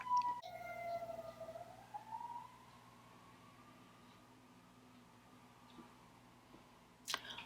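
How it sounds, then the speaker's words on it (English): A distant emergency vehicle siren outside wails with a slow rising and falling tone, fading as it passes, followed by a sharp knock near the end. "sirens have passed"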